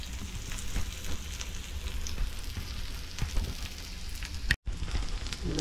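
White anchovy fish, yerle or motka, fry in Malvani style in a pan with a steady, close sizzle and crackle, broken once by a short moment of silence.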